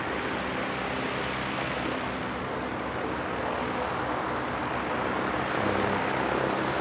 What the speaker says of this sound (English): Lovely Jetstar coming in, presumably from Auckland, though not always.